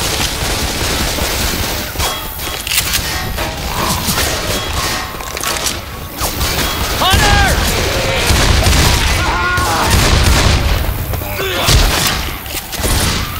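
Gunfire from the Left 4 Dead 2 zombie shooter crackles in dense, near-continuous bursts with booming hits and rapid automatic fire, while voices call out over the chaos.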